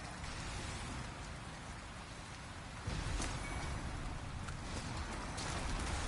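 Rain falls steadily in the game Demon's Souls, a dense, even hiss of drops striking surfaces at low volume that grows a little heavier partway through, with no voices.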